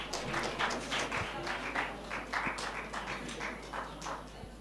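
Participants at a pharmacy research methodology workshop applaud with scattered, moderately loud clapping that comes in uneven bursts and continues throughout.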